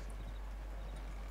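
Horse hooves clip-clopping in the video game Red Dead Redemption 2, faint quick steps over a steady low hum, with no talk during the sound.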